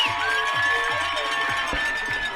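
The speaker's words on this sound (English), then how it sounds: "Listen to this crowd." A crowd at a high school football game cheers and whoops from a distance, a broad roar that holds steady for a couple of seconds. Faint voices and shouts carry through it.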